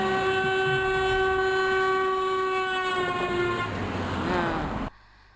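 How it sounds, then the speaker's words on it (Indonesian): A train horn blares in a steady harmonic tone as the train approaches and passes a listener standing still by the roadside, its pitch sliding downward after passing with rumbling rail noise beneath, then cutting off abruptly. "klakson yang mendekati kita, makin lama suaranya makin tinggi"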